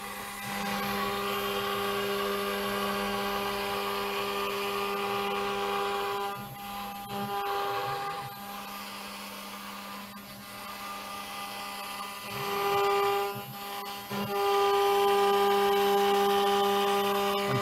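A CNC router spindle takes light, shallow passes while carving a 3D logo. It produces a sustained whining tone whose pitch and loudness dip and swell as the spindle rises, plunges and crosses the path, with scraping cutting noise underneath.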